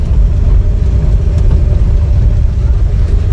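A 1970 Chevy C-20 pickup truck rolls along a road, its engine giving a steady, loud low rumble close by, with no talk over it.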